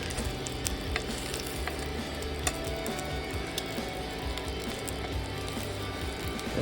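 Shishito peppers blister in a cast iron pan over a butane burner, giving a constant low crackling sizzle with occasional sharp pops and ticks, fairly quiet and without talk.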